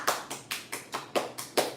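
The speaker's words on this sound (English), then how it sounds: "I do hear some claps" Seven crisp hand claps at a steady, slightly uneven pace, close and clear with nothing else beneath them.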